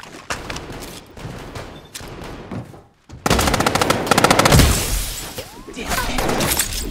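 Rapid gunfire in the shooter game Strinova, a loud sustained barrage of automatic bursts with breaking and shattering impacts, pausing briefly before an even denser, closer volley.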